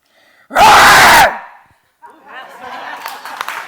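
A group of people lets out a loud, sustained roar lasting under a second, followed by a pause and then scattered voices and laughter.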